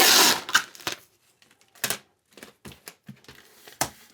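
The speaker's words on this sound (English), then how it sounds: "I'm going to come back around these corners here and tape this up this way." Packing tape pulled and pressed around the corners of a cardboard box, heard as a burst of ripping at the start and then a run of short crackling strips and pats, close and fairly loud, with no talk.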